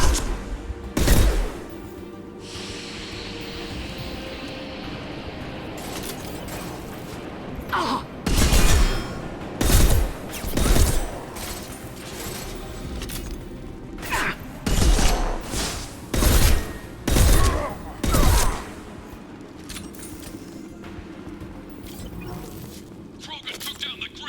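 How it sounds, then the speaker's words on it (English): Heavy battle gunfire in the video game Mass Effect 2, with loud bursts and booms clustered mid-clip over a constant low rumble of combat, along with gasps and vocal sounds. "taking heavy fire!"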